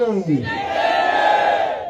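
A political rally crowd at an election gathering roars a chanted reply in unison, a loud massed shout that swells and holds briefly after a short rising call.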